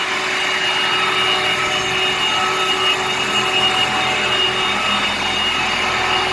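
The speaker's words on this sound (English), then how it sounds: "These are the densifiers. Comes over to flex augers, feeds into each hopper." Plastic densifier machines with flex augers feeding each hopper on a production floor with four lines, a loud, steady, continuous industrial roar and whine with no pauses.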